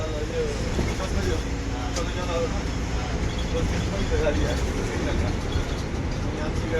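An MSRTC Ashok Leyland BS6 bus on the road, its engine a steady low rumble with road noise, heard continuously from inside while a person talks over it.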